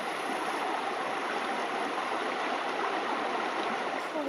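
Steady broadband rush of a creek at the French Creek trail crossing on a Black Hills section hike, continuous and fairly close, with no voices over it.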